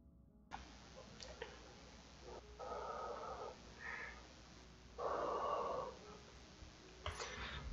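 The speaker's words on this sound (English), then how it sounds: "That is simply me breathing into my hands, trying to warm them up" Several soft, breathy exhalations into cupped hands to warm them in a cold basement, close and quiet, coming in short bursts separated by pauses.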